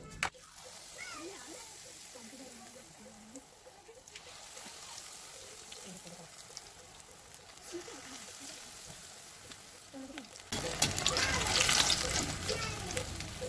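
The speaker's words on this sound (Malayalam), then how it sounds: "ഇനി നമ്മൾ മുളക് ബജി ഫ്രൈ ചെയ്യുകയാണ്" Chili bajji fritters fry in hot oil with a continuous soft bubbling sizzle, growing louder and brighter near the end, close by under faint background noise.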